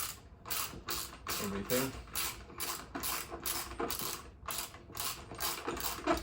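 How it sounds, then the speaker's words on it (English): A ratchet wrench clicks steadily as it tightens a woodworking glue-up jig, a rapid run of sharp pawl clicks in repeated strokes, close and fairly loud, with a brief word spoken over it. "with my trusty wrench. I would start to tighten up"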